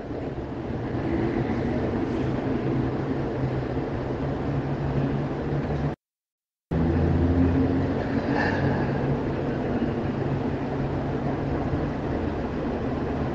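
A bus eases slowly out of the Uberlândia bus station bound for Santa Catarina, giving a steady low engine rumble with a mechanical drone that holds constant apart from one brief dropout midway.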